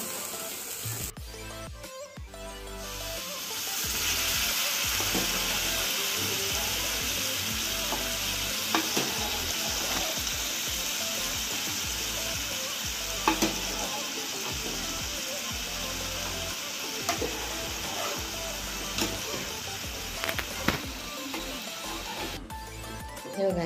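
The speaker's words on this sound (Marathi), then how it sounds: "मटणाचे पीस मी याच्यामध्ये घालून घेतलेले आता हे पूर्ण एकजीव करून घ्यायचं" Cooked mutton pieces stirred and fried in a pan for a mutton sukkha, giving a loud, continuous sizzle with repeated scraping and clattering stir strokes close by throughout.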